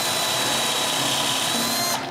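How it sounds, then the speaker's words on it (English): A power drill bores screw holes into a wooden nutcracker, a loud, steady, high whine that runs without a break and cuts off at the end. "Now I can drill the screw zones to access the inside of the nutcracker."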